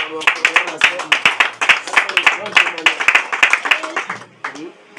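A live audience claps in steady rhythmic bursts of applause to encourage a woman giving a testimony at a church gathering. The clapping is loud and close, and voices cheer and call out over it before it thins out near the end.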